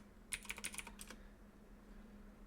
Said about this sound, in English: now I can type in the username and password that I just created